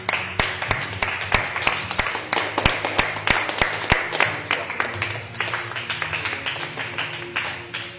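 A prayer-meeting congregation claps steadily in a fast, even rhythm, loud and close, sustained throughout with crowd voices faintly beneath.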